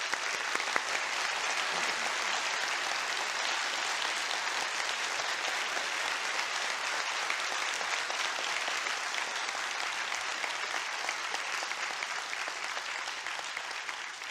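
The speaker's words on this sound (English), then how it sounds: "We can applaud Mr. Ham's presentation." Sustained audience applause after a creation-versus-evolution debate presentation, a dense steady wash of clapping from a large crowd that holds at an even level throughout, with no voices over it.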